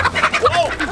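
Chicken squawks repeatedly in quick, frantic bursts while being caught, close and loud, with people's voices mixed in.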